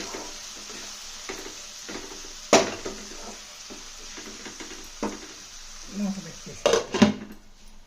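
A spoon clanks against a pot as tomato and broad bean curry is stirred, with scraping and sharp metallic knocks, then the lid clatters on near the end; a voice talks faintly underneath.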